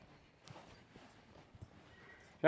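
An American Brabant draft mare walks, her hooves giving soft, evenly spaced clops at a distance. A louder thump lands at the very end.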